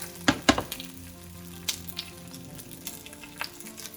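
Cauliflower florets frying in oil over medium-high heat for Manchurian, a steady close sizzle broken by a few sharp pops and crackles as pieces are turned.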